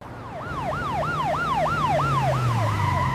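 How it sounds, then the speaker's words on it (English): A wailing police siren repeats a fast rising-falling yelp over a rumbling engine, loud and close, with a second siren joining toward the end. "Police cars arrive quickly."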